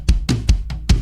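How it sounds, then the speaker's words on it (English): Tom drum loop filling out the background of an FL Studio pop beat, about five quick, resonant drum hits in a fast repeating rhythm over a low sustained hum. "I have a tom loop as well to fill up the background of the drums."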